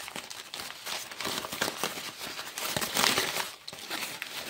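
Plastic packaging around a mail-order orchid plant, a Paphiopedilum bellatulum, is pulled open, giving close, busy crinkling and rustling with small tearing crackles throughout, fairly quiet and with no talking.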